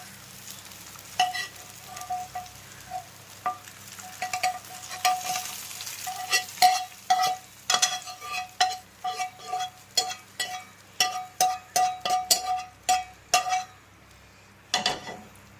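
Shallots and curry leaves fry in hot oil for a traditional Kerala taro curry, a quiet sizzle under repeated clinks and scrapes of a spoon stirring against the pan, no talking.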